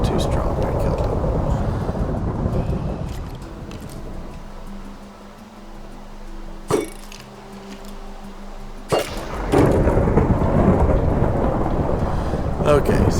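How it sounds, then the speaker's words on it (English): Video game thunderstorm with loud rolling thunder over steady heavy rain, with sharp cracks of thunder breaking through the roar partway in. "it's a thunderstorm"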